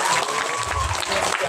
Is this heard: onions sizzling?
no